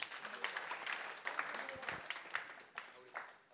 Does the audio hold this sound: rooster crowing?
no